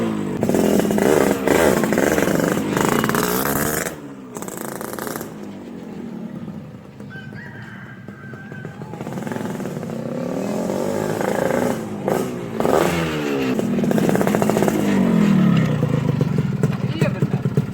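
A motorcycle engine runs and revs in a casual street setting, rising and falling in bursts, loud and close, with a quieter stretch midway, while people talk over it.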